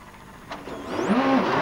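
A rally car engine at the Tour de Corse WRC round, a mid-pitched drone that swells louder and rises in pitch over about a second, with no voices over it.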